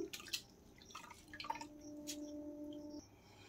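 Washed grated potatoes are squeezed by hand and water drips and trickles off them. The drops fall faintly and close by, a few quick patters over a steady low background hum.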